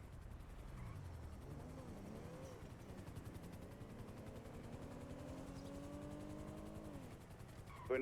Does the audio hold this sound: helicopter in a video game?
yes